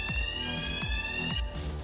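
An alarm blares inside a Hitman level: a steady high electronic tone repeats in pulses over a low rhythmic thumping, loud and continuous, with no voices.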